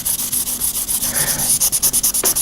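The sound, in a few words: sanding a DIY guitar kit's finish with sandpaper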